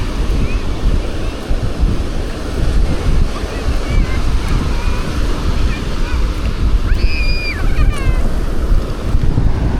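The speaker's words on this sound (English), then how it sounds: "Not huge waves, but bigger than nothing." Ocean waves roll and break on a beach in Da Nang, a loud, continuous surf roar mixed with wind buffeting, with brief faint high calls in the background.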